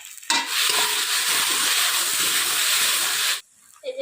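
Green chillies fry in a hot pan with a loud, close, continuous hiss and sizzle that runs about three seconds before dropping off abruptly, no talking.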